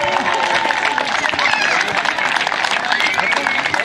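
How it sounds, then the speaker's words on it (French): An audience claps steadily for a girls' football team at a youth tournament awards ceremony, a dense, continuous patter of applause with crowd noise mixed in. "on va appeler et applaudir bien fort l'équipe de"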